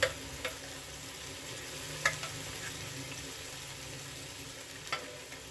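Brinjal pieces frying in oil in a pan, a steady soft sizzle throughout with a few faint clinks of a spoon stirring.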